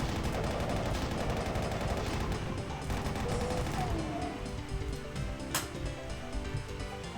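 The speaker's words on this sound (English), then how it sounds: "Being able to jib imps with a plasma gun." Rapid weapon fire from a plasma gun in a Doom map, a dense, continuous stream of zapping shots loud and close throughout, with game effects layered in.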